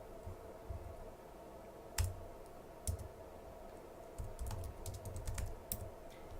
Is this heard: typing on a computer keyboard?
yes